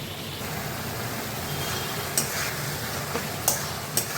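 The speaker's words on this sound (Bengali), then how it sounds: "সব মশলাগুলো প্রায় ভাজা হয়ে এসছে" Spices frying in oil with salt and Kashmiri chili give off a steady, close hiss of sizzling, broken by a few sharp pops and crackles near the end, with no voices.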